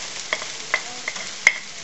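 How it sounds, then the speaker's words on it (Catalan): Finely chopped garlic fries in oil in a pan, a steady close sizzle broken by several sharp scraping strokes as it is stirred. "Un minut més tard afegim l'all trossejat ben petit"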